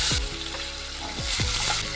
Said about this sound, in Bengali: আলুটিকে দিয়েও একটু ভেজে নেব।